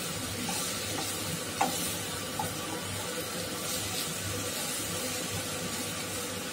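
Boiled potatoes being mixed into a samosa filling in a pan, a soft, continuous sizzle and shuffling stir under a low hum, with two light clicks of a utensil against the pan.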